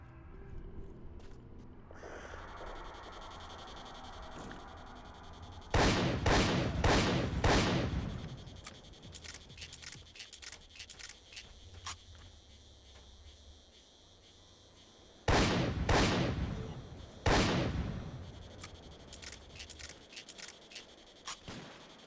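Gunfire in S.T.A.L.K.E.R. Call of Pripyat, two separate bursts of several loud, sharp shots each, separated by quieter stretches of ambient game sound, with faint breathing between.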